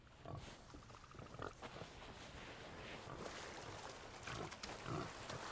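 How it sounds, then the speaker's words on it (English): Pigs oinking on an island in a video game, grunts scattered and fairly faint over a steady ambient wash of game sound, with no talk. "There's some pigs on this island."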